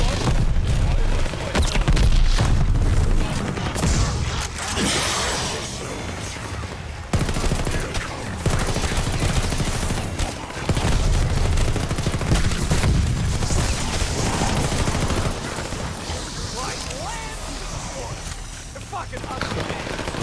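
Dense gunfire and booms in the video game Call of Duty: Vanguard, a loud, continuous clatter of rapid shots and bursts over a constant low rumble, with voices talking underneath.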